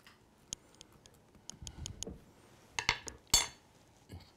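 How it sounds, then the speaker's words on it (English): A big spoon stirs a homemade fresh fruit salad in a bowl, making sparse, sharp clinks and taps with soft scraping between them, close and fairly quiet. "We get the big spoon. Stir that up just like that."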